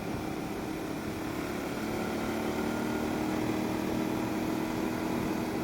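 A 2022 Aprilia Tuareg 660 motorcycle cruising at a steady pace on a back road in fifth gear, a continuous engine drone mixed with heavy wind rush, constant and loud with no speech.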